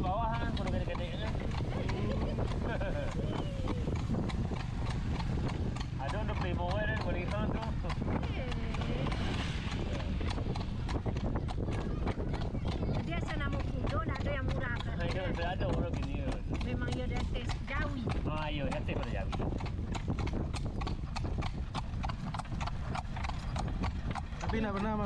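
Pony hooves clip-clop steadily and close on a hill road in Limbanang, a continuous quick rhythm of hoof strikes with wind noise and people talking throughout.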